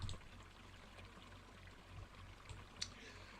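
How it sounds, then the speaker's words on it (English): Water pours steadily into the tender of a steam locomotive in a train video game, a soft continuous trickle and stream at low level with faint background rumble. "I'm putting water into my coal."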